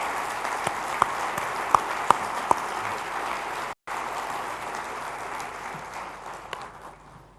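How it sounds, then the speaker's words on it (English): Sustained applause from a large conference audience welcoming an Indian Air Force chief at the India Today Conclave, a dense even wash of clapping with a few sharper claps standing out and a brief dropout midway. "let's hear a thunderous round of applause"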